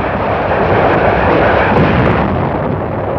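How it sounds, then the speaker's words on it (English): Naval gunfire from a 262-ship armada's point-blank preliminary bombardment, a dense, continuous roar of booming blasts blending into one loud, unbroken rumble with no talk. "Guns of the 262-ship United Nations Armada began their point-blank preliminary bombardment."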